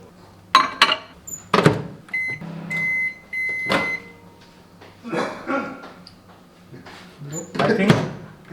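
A microwave hums steadily while cooking oats, with beeps and door clunks, while people talk and cough nearby.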